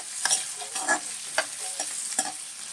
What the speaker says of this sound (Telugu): వేగితే బాగుంటుందండి పచ్చిమిరపకాయలు, ఆయిల్లో వేగితే బాగుంటుంది కదా